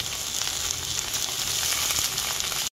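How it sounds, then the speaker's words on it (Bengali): Pumpkin, potato, eggplant and beans frying together in oil with five-spice, dry chilli and bay leaf give a loud, steady hissing sizzle for a few seconds before cutting off abruptly. "একটু ভাজা ভাজা হবে আগে।"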